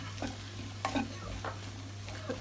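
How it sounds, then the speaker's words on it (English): Courgette and mushrooms frying in a pan for a crustless quiche, a steady close sizzle with occasional scraping stirs over a constant low hum. "And I'm now going to add the courgette and the mushrooms."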